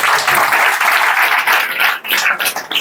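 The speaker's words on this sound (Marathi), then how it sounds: "अरे इथं टाळ्या वाजवाही असतात" An audience at a student guidance event claps together in a dense, loud burst of applause that holds steady, then thins into scattered claps near the end.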